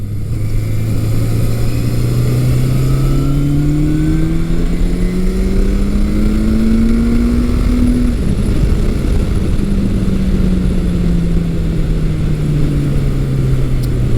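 A 1982 Suzuki GS750E motorcycle engine winds up steadily past 6,000 RPM, its loud buzzing howl climbing in pitch, briefly dropping at a shift, then holding and easing down, heard alone under constant wind noise.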